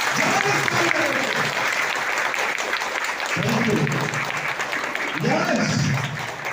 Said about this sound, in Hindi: एक बार जबरदस्त ताली हो जाए, पर जोरदार तालियां, जबरदस्त तालियां।